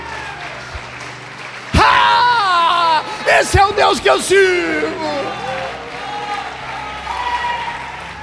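A church congregation bursts into loud applause mixed with whoops and shouts, the cheering rising in waves over a preacher's raised voice and fading as he keeps talking.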